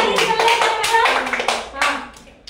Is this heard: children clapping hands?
yes